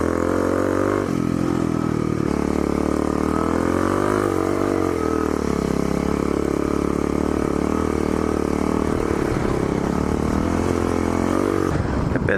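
A dual-sport dirt bike engine drones steadily and loudly while riding on trails, its pitch shifting up and down with throttle changes and the rider's motion throughout.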